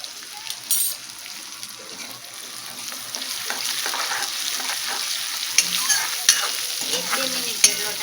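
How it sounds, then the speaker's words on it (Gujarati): Onion, garlic and chopped chili sauté in a pan with a soft continuous sizzle and occasional stirring scrapes, moderately close. "આ બધું જ આપણે સરસ રીતે સાતળી લેવાનું છે"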